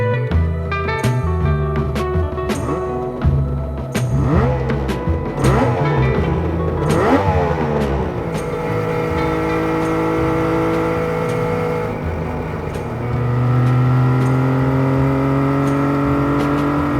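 Suzuki GT750 two-stroke 750cc triple motorcycle engine revving loudly and steadily, with rising and falling pitch sweeps from throttle blips, then settling into a sustained drone close by, with no speech.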